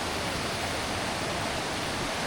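The river at Sungai Pertak rushes in a dense, steady, close flow of water, with no voices.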